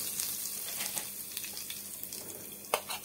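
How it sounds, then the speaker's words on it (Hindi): Curry leaves hitting hot oil with popping mustard seeds set off a steady close sizzle, with sharp crackles and a louder burst near the end. "जैसे मस्टर्ड थोड़ा छिड़कने लग जाए, उसमें डाल देंगे कड़ी पत्ता जो काट के रखा था हमने"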